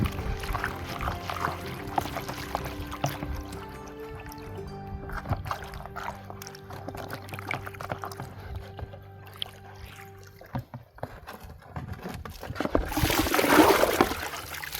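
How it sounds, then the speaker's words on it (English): Water washing placer gravel in a gold pan below an old mine, with trickling, splashing and sloshing that runs on for a while and swells into a louder rushing pour near the end, heard close. "Let's wash my pan a little bit."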